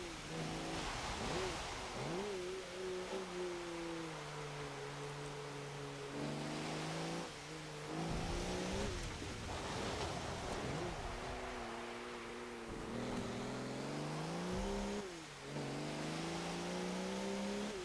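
The 2009 Audi Q7 V12 TDI diesel SUV revs in Forza Motorsport 7, its engine note climbing and dropping through repeated gear changes over a long stretch of track driving, loud and continuous under wind and tyre noise.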